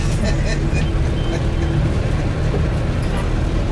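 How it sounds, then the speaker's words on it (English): A car drives along Tottenham Boulevard in Monrovia, Liberia, with a steady, dense rumble of engine and road noise from city traffic all around, holding at an even level throughout. "We are still driving on the Tottenham Boulevard."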